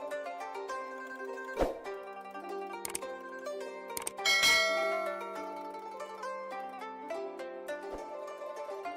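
Bright, ringing bell chimes struck several times over about nine seconds, with sharp strikes and long shimmering decays that overlap, fairly soft and alone without any voices.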